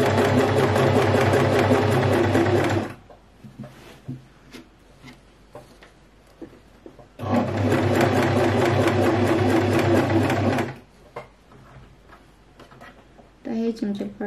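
A sewing machine stitches a wedding dress in two loud, close bursts of steady mechanical whirring, each a few seconds long, separated by quiet pauses with faint handling clicks, and a third burst starting at the very end.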